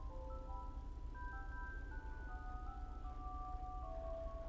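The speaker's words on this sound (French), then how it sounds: "une musique Harry Potter" Harry Potter theme music plays faintly in a GTA roleplay game as a simple chiming melody of sustained tones over a low rumbling engine hum, quiet and steady.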